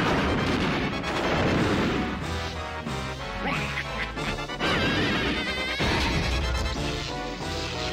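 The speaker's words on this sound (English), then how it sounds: "get electrocuted from the explosion of the TNT barrel" TNT barrel exploding in Donkey Kong 64, a video game, heard as loud crashing blasts that mix with game music and effects and continue dense and unbroken throughout.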